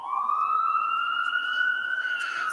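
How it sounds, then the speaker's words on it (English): An emergency vehicle siren wails in the city streets of Cleveland, one steady, slowly rising tone that is loud and fairly close, heard alone without talk. "Nothing but sirens all day, all night."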